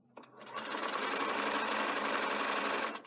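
A sewing machine stitches a front placket band on a shirt in one steady, continuous run of about two and a half seconds, loud and close, starting after a short click.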